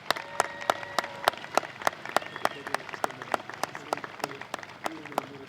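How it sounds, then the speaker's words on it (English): Applause at a high school graduation ceremony for standing middle college students, heard as sparse, distinct claps with a few people clapping close by and a softer crowd behind them, plus a faint tonal sound underneath. "Let's give them a round of applause."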